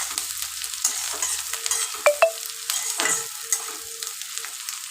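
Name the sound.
onions frying for birista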